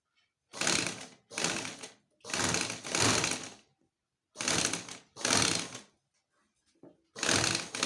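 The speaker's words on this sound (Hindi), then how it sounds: "ये मैंने सब साइड से इसको सिलाई लगा के पक्का कर दिया है।" Sewing machine stitching buckram onto trousers in several bursts of fast, close mechanical whirring, separated by short pauses of near silence.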